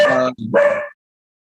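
A dog being minded in a home barks close and loud, one sharp two-part bark-yelp that cuts off abruptly.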